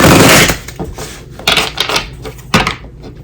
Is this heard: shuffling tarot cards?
yes